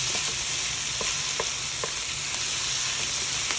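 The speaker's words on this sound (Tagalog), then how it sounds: "ginisa ko muna yung mga karne" Meat sautéing in a pan for pancit canton, a steady close sizzle with occasional scraping stir strokes and no talk.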